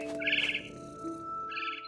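A bird chirps in the video game What Remains of Edith Finch, with two bright bursts of high tweeting, near and clear, separated by a brief pause over a faint tonal game background.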